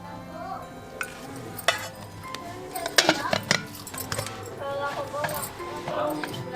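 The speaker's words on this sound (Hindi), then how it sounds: "कढ़ाई गर्म हो गया, मैं इसके अंदर तेल डाल रही हूँ।" Oil sizzling in a hot kadai on a village stove while utensils clink and scrape, with irregular louder clatters near the middle and a voice talking over the cooking.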